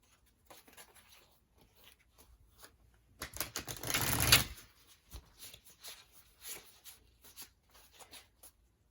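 Tarot cards being shuffled by hand, a quiet run of soft riffling taps with one louder, denser burst of flicking cards in the middle, close and alone without talk.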